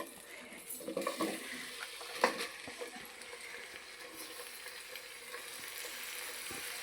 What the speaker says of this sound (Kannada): ಇವಾಗ ನಾವು ಕಟ್ ಮಾಡಿ ಇಟ್ಕೊಂಡಿರೋ ಈರುಳ್ಳಿ, ಟೊಮ್ಯಾಟೊ, ಬೆಳ್ಳುಳ್ಳಿ, ಕೊತ್ತಂಬರಿ ಸೊಪ್ಪು ಮತ್ತು ಶುಂಠಿ ಎಲ್ಲ ಏನಿದೆ ಅದನ್ನೆಲ್ಲ ಹಾಕ್ಬಿಟ್ಟು ಫ್ರೈ ಮಾಡೋಣ